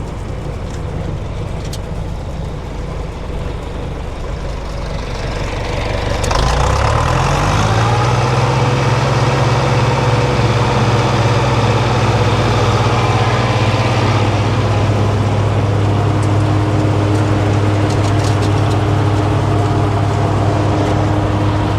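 A green bean harvester engine idles with a steady low drone, then revs up around seven seconds and holds a louder, higher, constant roar at picking speed, close and loud with no talk.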